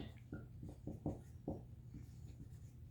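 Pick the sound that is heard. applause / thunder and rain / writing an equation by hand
writing an equation by hand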